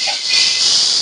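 Watermelon rind dosa batter sizzles on a hot tawa over a medium flame, a loud, steady bright hiss that continues without a break.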